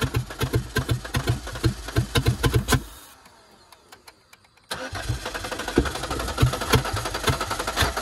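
A Chevy Equinox, filled with diesel by mistake, cranks with rapid rhythmic starter chugs, pauses in near silence for a couple of seconds, then cranks again, loud and close, without catching.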